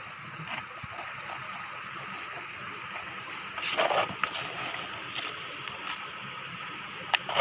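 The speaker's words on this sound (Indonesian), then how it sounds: "Yang pertama kita buang airnya dulu." Water is poured out of a basin of pond water holding stones and sand, giving a soft, steady trickle with a brief louder splash partway through and light clatter, heard up close.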